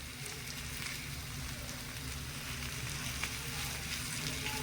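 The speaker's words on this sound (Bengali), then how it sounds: "আলুটা একটু খুব সুন্দর করে একটু ভাজা ভাজা করে নিয়েছি" Potato filling for singara frying in a pan, a faint, even, continuous sizzle like light rain, steady throughout with no voices.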